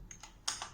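Keys on the keypad of an 8051 microcontroller LCD kit, the ET 8051LCD APL, are pressed in about four quick, faint plastic clicks close by.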